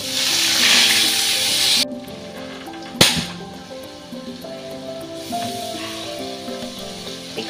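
Ground onion paste dropped into hot oil in a pan, a loud broad sizzle that cuts off abruptly, followed by a sharp clatter and a quieter continuing fry with a tonal hum underneath.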